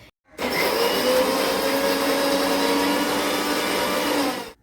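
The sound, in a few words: mixer jar grinding ginger and garlic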